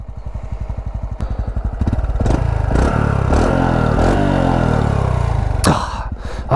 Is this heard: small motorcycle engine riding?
yes